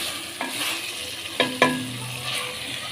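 Village-style aloo keema of minced meat and potatoes stirred and frying in a pan, with a steady close sizzle and a few sharp spoon scrapes against the metal.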